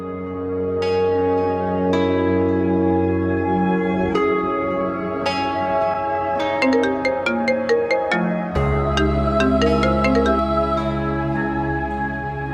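A phone ringtone plays loud and alone as a looping electronic melody of sustained tones and bright chiming notes, continuing for over twelve seconds.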